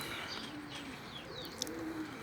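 Pigeons cooing nearby, soft low murmuring calls drawn out over a steady background hiss, with a faint higher chirp near the end.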